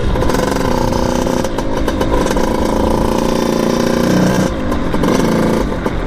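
A Kawasaki KX80 dirt bike fitted with a 110cc big bore kit, its engine running loud and steady throughout while riding, with slight rises and dips in revs and no voices.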